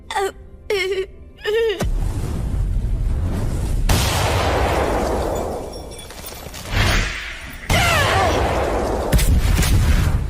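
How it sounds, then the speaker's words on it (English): Anime dub scene of a building exploding, with heavy booming blasts and rumbling debris that follow a few brief vocal cries. "Is the building exploding?"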